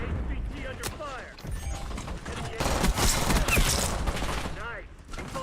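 In a video game, gunfire comes as rapid bursts and scattered shots, with a dense barrage building toward the middle. Game sounds and effects mix in around the shooting.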